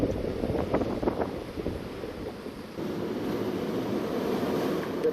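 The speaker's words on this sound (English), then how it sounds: "Plenty of waves, windy." Sea waves crash and roll along an open coastline in a 50 km/h windstorm, a loud continuous wash of surf mixed with gusting wind buffeting the microphone, with no talking.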